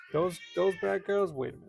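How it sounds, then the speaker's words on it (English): An old deaf cat meows loudly, four drawn-out harmonic calls in quick succession close by, with a person talking over them. "So she meows really loud."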